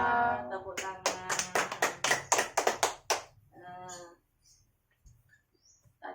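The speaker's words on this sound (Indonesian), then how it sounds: "Tepuk tangan." A group claps hands in a quick run of about a dozen sharp, evenly spaced claps at a community session, then stops, with a voice speaking briefly afterward.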